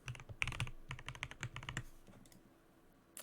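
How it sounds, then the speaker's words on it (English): Quick bursts of clicking keystrokes on a computer keyboard while a password is typed, close and crisp, trailing off into a few scattered taps, no talking. "So now I'm going to enter in my super secret password."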